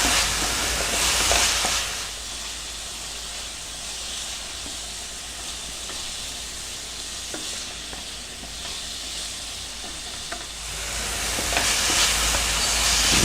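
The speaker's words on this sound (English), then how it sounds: "Just going to mix the salt and the MSG and the pepper and everything all together" Chicken soup vegetables, carrots and celery with salt, MSG and pepper, being stirred in a pot: a steady sizzling hiss with scraping stir strokes, close and continuous, louder at the start and end, no talk.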